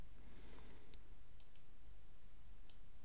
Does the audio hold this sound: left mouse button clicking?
yes